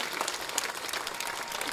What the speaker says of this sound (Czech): Zatleskáme jí.